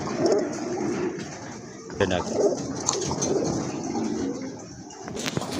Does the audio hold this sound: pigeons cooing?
yes